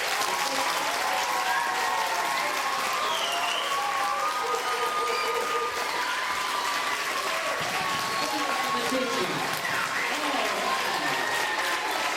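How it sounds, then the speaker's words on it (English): An audience of students at a school assembly applauds, with dense continuous clapping mixed with cheering and shouted voices, loud and steady for the whole stretch. "Let's give them a big round of applause."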